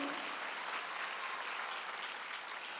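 Church congregation clapping during a Sunday worship service, a soft, even sheet of applause from many hands, steady and fairly distant for the whole stretch.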